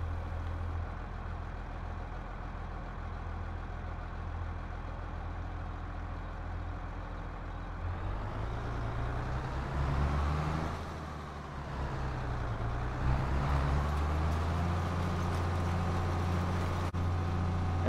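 A John Deere 3020 tractor in Farming Simulator 22 pulls a John Deere 7000 planter, its engine droning steadily, then rising and dipping in pitch as it shifts up through gears, with no talk.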